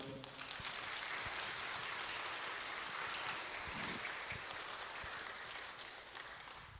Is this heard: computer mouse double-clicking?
no